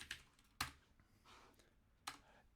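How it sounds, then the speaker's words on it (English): Computer keyboard typing during game development, a few sparse, crisp key clicks spaced apart, close but very quiet. "Is my keyboard really loud?"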